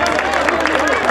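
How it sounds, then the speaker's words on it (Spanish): Crowd applause and cheering for a girls' team at an Argentine rodeo team cattle-penning event in Junín, Mendoza, a dense, continuous burst of clapping mixed with babble. "Un aplauso para las chicas."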